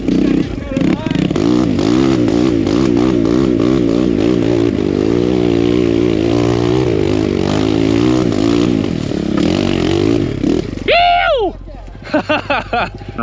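A Kawasaki KLX140RF dirt bike with a 170cc big bore kit climbs a trail, its small engine droning and revving steadily up close for most of the stretch before easing off into scattered clatter near the end.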